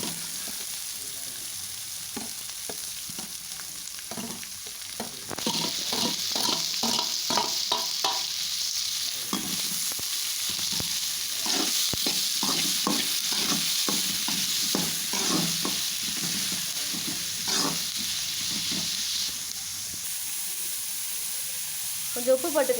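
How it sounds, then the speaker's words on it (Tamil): Whole fennel, cinnamon, clove, cardamom and bay leaf crackle in hot oil for vadacurry, a steady close sizzle that swells after a quiet start, with repeated light stirring scrapes and no talk. "இந்த சோம்பு சேர்த்துக்குங்க. பட்டை, லவங்கம், ஏலக்காய், பிரிஞ்சி எல்லாம் சேர்த்தாச்சு. நல்லா பொரிஞ்சு வரட்டும்."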